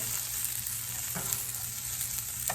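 Onions frying in a pan, alongside burgers, sizzle steadily and fairly loud for the whole stretch, with brief scraping and stirring knocks now and then.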